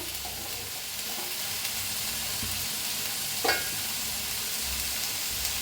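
Ingredients for chole bhature are dry-roasted in a pan until soft. A steady close sizzle and hiss runs throughout, with one brief clatter of stirring midway and no talking.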